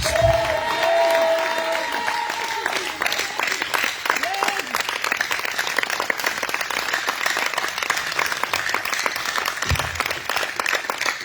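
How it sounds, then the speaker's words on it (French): A crowd at an evening prayer meeting claps and cheers, brisk rhythmic applause running throughout, with a voice and brief sustained tones at the start before the clapping dominates. "Acclame le Seigneur Jésus"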